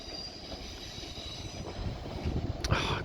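A Class 158 diesel train at Manchester Piccadilly station rumbles steadily with rolling wheel noise, growing louder and ending with a sharp metallic squeal near the end, heard close by without talk.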